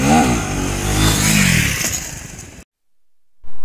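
KTM Duke 390 motorcycle accelerating hard from a launch, a loud close engine roar climbing in pitch through the gears for about two and a half seconds, then a sudden cutoff into near silence before a brief burst returns at the end.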